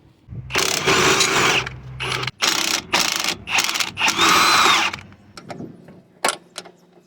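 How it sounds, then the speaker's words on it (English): A quarter-inch ratchet and wrench work bolts on a Toyota Sienna engine during a power steering pump replacement, with close, loud bursts of rapid ratchet clicking separated by pauses and ending in a few sparse metallic clicks. "One quarter ratchet here, ratchet and wrench."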